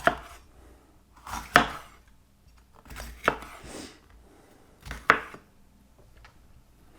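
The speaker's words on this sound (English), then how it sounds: "Wash those up, cut those up," Vegetables for crockpot chili chopped with a knife on a board, four or five distinct sharp thuds spaced about two seconds apart, close and clear over a quiet background.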